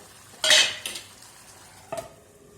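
Chicken stirred in a pot, about half-cooked, as a spoon scrapes through it in a few short bursts: one louder scrape, then two softer strokes, with quiet between them and no talking.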